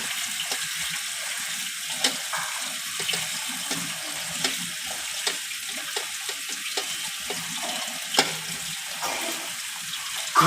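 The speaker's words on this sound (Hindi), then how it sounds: "अब इसे वॉश कर लेंगे ठंडे पानी से।" Cold water runs steadily from a tap, splashing and gurgling as moringa pods are rinsed, with occasional soft knocks against a sink.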